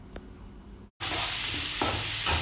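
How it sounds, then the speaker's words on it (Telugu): Onions, curry leaves and tempering seeds hit hot oil in a pan and sizzle loudly, a sudden bright hiss that starts after a brief quiet and stays dense and continuous, with faint stirring beforehand. "నూనె కాగిందండి తాలింపు గింజలు వేసుకుంటున్నాను కరివేపాకు ఉల్లిపాయలు వేసుకుంటున్నాను"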